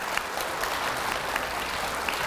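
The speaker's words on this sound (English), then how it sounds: "Let's give them a big round of applause." Audience clapping at an elementary school fourth-grade awards day, a steady wash of many hands with no voices on top.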